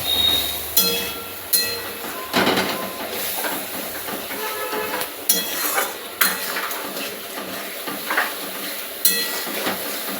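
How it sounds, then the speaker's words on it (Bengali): Food being stirred in a pan with a utensil, giving intermittent clanks and scrapes against metal over a constant background hiss, close and fairly loud, with no talking. "একটু নেড়ে চেড়ে নেব।"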